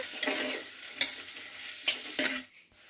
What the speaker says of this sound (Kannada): ಬೀಟ್ರೂಟ್, ಇವು ಮೂರನ್ನ ಹಾಕ್ಕೊಂಡು ನೀಟಾಗಿ ಮಿಕ್ಸ್ ಮಾಡ್ಕೊಳ್ಳೋಣ